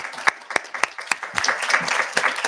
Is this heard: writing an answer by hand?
no